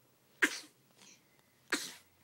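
Two short, sharp sneezes or coughs from a child, about a second apart, close by with quiet room noise between.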